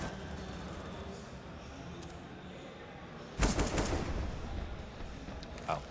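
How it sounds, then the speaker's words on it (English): Bursts of automatic gunfire from a competitive shooter game match, distant and faint at first, then a loud burst cracks in mid-match with a short shot near the end, under a low commentary voice. "Bit of gunfire exchanged here towards mid."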